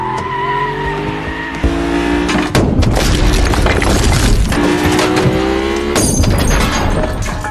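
A car skidding and crashing: tires screech loudly under a roaring engine, then heavy impacts with shattering and crunching bursts, all close and intense with no talking.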